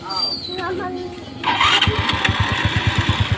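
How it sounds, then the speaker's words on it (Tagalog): A motorcycle engine cranks and catches after its electric starter is bypassed, then settles into a loud, rapid, pulsing idle close by; brief voices are heard before it starts. "umandar yung motor, di ba?"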